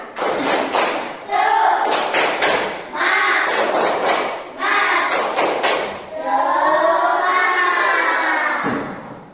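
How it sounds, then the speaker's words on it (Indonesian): A group of children claps in a fast chanted rhythm, patterned bursts of claps alternating with shouted unison chanting. "Tepuk semangat."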